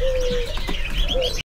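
Caged mantenan birds chirp and coo close by at a bird market kiosk, a couple of short whistled calls and soft tweets over about a second before cutting off.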